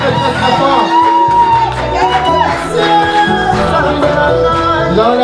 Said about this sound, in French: c'est avec joie que nous allons acclamer très très très très très très très fort